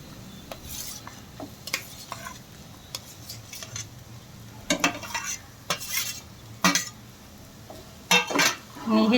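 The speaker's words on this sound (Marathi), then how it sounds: "आणि चांगला हलवून घेऊ." A spoon stirs sautéed peas and mashed potatoes in a pan, scraping and clinking in uneven bursts over a light sizzle. A voice is faintly audible in the background.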